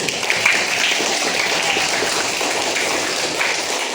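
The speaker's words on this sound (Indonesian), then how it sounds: "Kasih tepuk tangannya dulu" Classroom of junior high students applauding a group, a steady dense wash of clapping lasting throughout at an even level.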